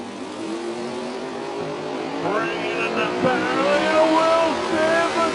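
A Mustang drag racer roars through a wild run that ends with the car going airborne, its engine a loud, building drone with rising revving tones, heard from some distance over a noisy crowd.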